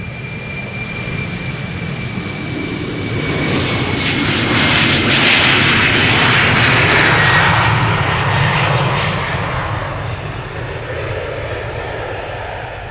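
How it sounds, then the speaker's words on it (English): A KLM jet airliner departs Amsterdam Schiphol with loud engines, close by. The roar swells to a broad, thundering peak around the middle, then slowly recedes with a lingering whine. "KLM number 190 to Billund."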